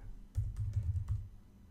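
Keys on a computer keyboard are tapped in a short quick burst of about half a dozen clicks, close and quiet, with no talk.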